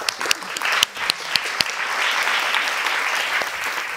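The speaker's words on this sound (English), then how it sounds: "we give Fazana some round of applause" A round of applause from a panel event audience, dense and continuous clapping with a few louder nearby claps early on, sustained at an even level to the end with no talking.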